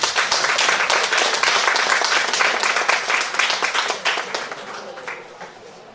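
A crowd applauds at a municipal council investiture in L'Anse, a loud, dense, sustained clapping that holds steady for several seconds and then gradually tapers off.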